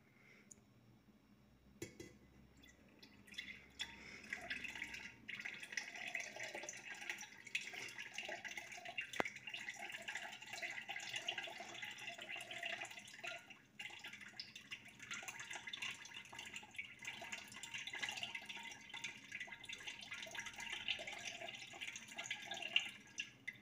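Sugar solution poured very slowly into a beer fermenter for carbonation, a soft steady trickle and light splashing of liquid into a plastic vessel, continuous and fairly faint, with a few small knocks.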